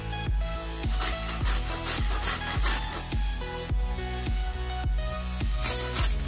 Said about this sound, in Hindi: अब हम सबसे पहले कद्दूकस से गोभी कस लेते हैं।